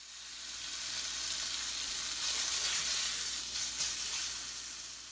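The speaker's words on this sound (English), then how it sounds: "After hearing a sizzling sound" Beef hits oil heated almost to smoking in a pan and sizzles with a steady, bright hiss that swells and holds for several seconds, close and without talk.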